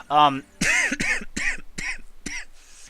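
A short vocal sound is followed by a run of five or six harsh, raspy coughs in quick succession, close up.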